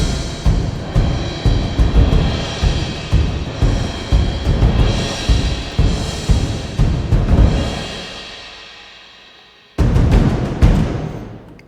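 Orchestral percussion for an arrangement of the Final Fantasy VII battle theme pounds out a driving rhythm of repeated heavy hits, then drops to a decaying tail before a loud crash re-enters near the end.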